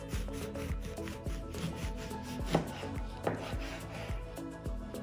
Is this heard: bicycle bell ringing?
no